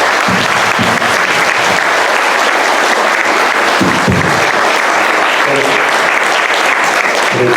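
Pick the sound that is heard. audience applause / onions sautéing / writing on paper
audience applause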